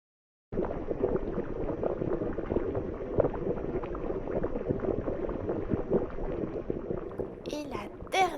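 Potion bubbling in a witch's cauldron, a continuous burbling, gurgling boil with dense, uneven bubbles, fairly close and steady, ending with a brief higher-pitched sound.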